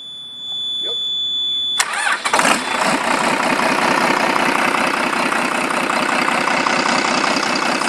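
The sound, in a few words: Cummins 6BTA 260 marine diesel engine starting and running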